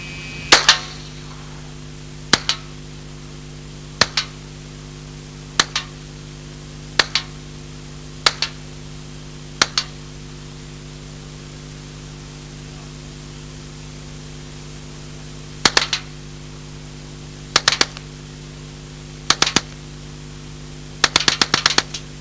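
An Alan Halla 1977 experimental low-recoil submachine gun fires single semi-automatic shots outdoors: sharp, separate reports spaced a second or two apart, a long pause, then a few more shots ending in a quick cluster, over a steady hiss.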